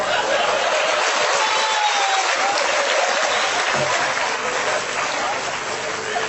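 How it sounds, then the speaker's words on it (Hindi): An audience breaks into loud, dense applause, sustained rapid clapping filling the room for several seconds before slowly thinning, with scattered laughter underneath. "ताली बजाओ।"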